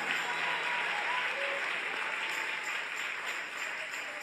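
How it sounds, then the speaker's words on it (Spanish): Applause from a church congregation fills the space, a dense and steady clapping that keeps an even level for several seconds with no other sound breaking through. "Dale un aplauso al Rey en esta noche"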